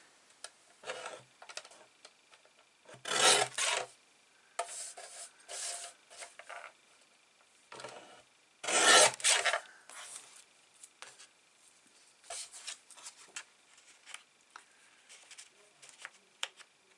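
Grey edges are trimmed off paper for a Stamperia wedding album, a series of close, dry cutting and rasping strokes in short bursts separated by quiet gaps.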